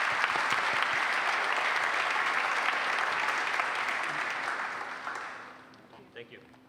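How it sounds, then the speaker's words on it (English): An awards-ceremony audience gives sustained applause at a preservation awards event, dense and even, then fading out near the end. "I just want to give a round of applause to Scott for getting this done."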